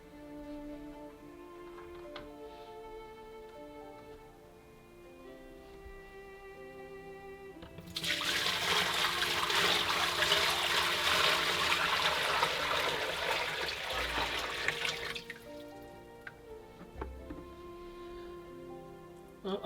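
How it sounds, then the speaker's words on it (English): Water pours steadily into a gargoyle gecko bioactive vivarium, a loud, close splashing stream lasting about seven seconds between quieter stretches of faint background. "let's put some water in, shall we?"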